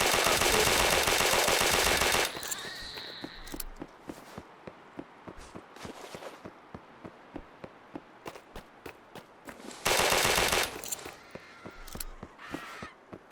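Closed-bolt gun with a 32-round magazine firing in the game Those Who Remain: a loud, sustained burst of rapid shots opens, then a quieter stretch of scattered clicks and steps, and a second short burst of fire comes near the end. No one speaks.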